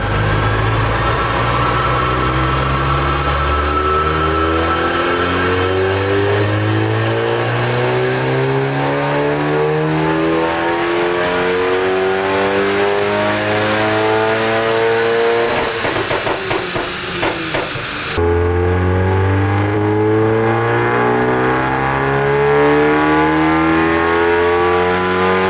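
A Stage 3 Volkswagen Golf GTI roars on a dyno, its engine climbing through rising revs in long sweeping pulls with a brief break midway, loud and close with no talk.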